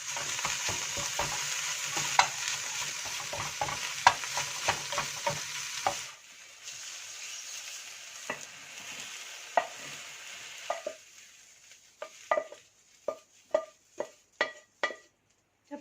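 Wild greens stir-fried with egg in a pan: a steady sizzle under rhythmic scraping and clacking of the spatula, then after a pause a series of sharp, evenly spaced stirring knocks close to the pan.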